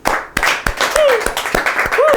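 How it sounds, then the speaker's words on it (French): A studio audience at a Saint-Jérôme church gathering claps and cheers for David, with sharp, fairly regular claps cutting through loud voices and shouting throughout. "je veux que dans ce studio au Saint-Jérôme, on acclame David"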